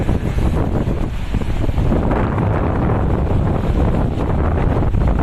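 Cold wind at Bang Saen beach before dawn, loud steady gusts buffeting the microphone in a dense low roar, with the sea faintly mixed in, no speech.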